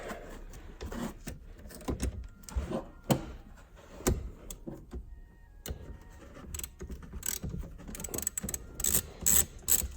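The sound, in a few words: 10 mm ratchet loosening the battery negative terminal on a BMW 3 Series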